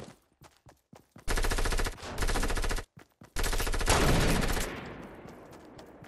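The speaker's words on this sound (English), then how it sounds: "Keep shooting." Video game gunfire crackles in rapid automatic bursts: a few single shots, then long sustained volleys with a brief pause between them, loud and close, tapering into fainter trailing shots.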